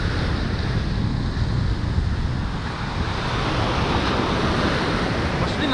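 Stormy sea waves roll onto a Crimean beach at Ordzhonikidze, a dense steady roar of surf mixed with gusting wind noise on the microphone, loud and continuous throughout.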